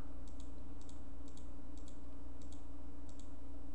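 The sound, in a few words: computer mouse clicks while selecting an image area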